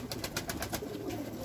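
Pigeons cooing in a coop crowded with breeding birds, a soft, continuous murmur of overlapping coos close by with no talking.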